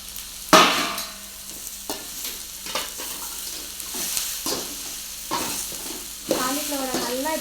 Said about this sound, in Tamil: காலிஃப்ளவரை நல்லா இப்படி கிளறி விட்டதுக்கப்புறம்